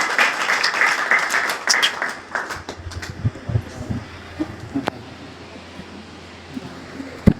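Crowd applause at a church thanksgiving service, loud dense clapping for the first couple of seconds that thins out into scattered, fading claps and a few sharp late ones.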